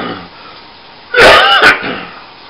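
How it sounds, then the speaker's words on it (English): A single close cough or throat-clearing burst erupts midway through an otherwise quiet indoor moment, short and harsh, with a fainter follow-up rasp. "If I get to talking too much, I get to coughing."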